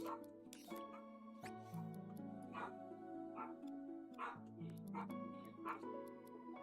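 A hyper dog yips, whimpers and barks in short bursts over a steady tonal background, with a voice speaking at moments.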